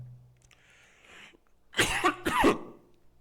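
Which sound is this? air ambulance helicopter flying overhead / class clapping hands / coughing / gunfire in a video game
coughing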